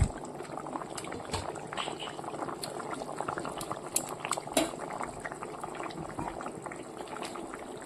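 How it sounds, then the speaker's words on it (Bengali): A pot of rice boils over on a home stove, a continuous bubbling and seething with small clinks of a utensil, moderately close and steady throughout, with no talking. "এদিকে যে ভাতটা উতলাচ্ছে এবার নামিয়ে নেব"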